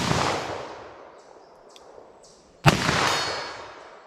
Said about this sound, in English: First shot I missed, the next one I aimed at the shoulders and it hit low.